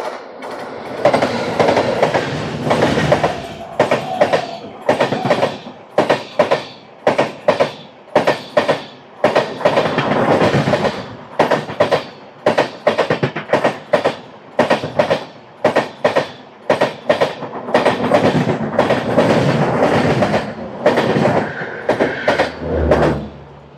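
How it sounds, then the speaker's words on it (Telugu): The 12740 Garib Rath Express, running from Secunderabad to Visakhapatnam, passes close by with loud rushing noise and a steady rhythm of wheel clatter as each coach goes past, sustained for over twenty seconds. "Train number 12740 Garib Rath express Secunderabad నుంచి విశాఖపట్నం వెళ్ళేది."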